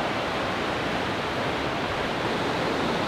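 Steady, full-bodied rush of river water churning below a diversion dam on Idaho's Malad River, a constant close roar with no break or voices.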